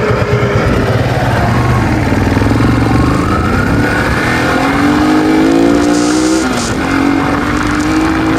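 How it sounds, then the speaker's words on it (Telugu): An old Yamaha FZ motorcycle pulls hard through its gears during a road speed run, the engine note rising and dropping at each shift beneath loud, steady wind rush close to the rider. "అట్లా మన ఓల్డ్ ఎఫ్జెడ్ లాగితే ఏమైతే చూద్దాం"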